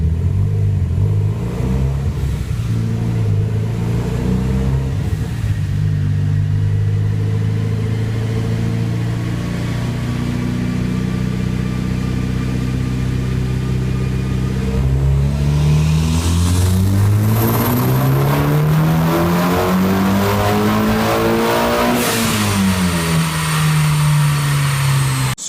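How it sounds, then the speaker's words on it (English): A tuned Mitsubishi Evo X with full bolt-ons roars through a sustained rev on a dyno, its engine note climbing steadily in pitch to a high peak before dropping back, loud and close throughout. "Here's a video of the Evo on the dyno."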